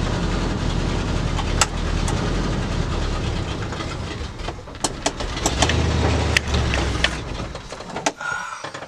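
A 1965 Ford Galaxie's engine runs loudly as the car moves up the road with a carburetor still needing adjustment, a rough rumbling drone broken by rattles and clunks over about nine seconds.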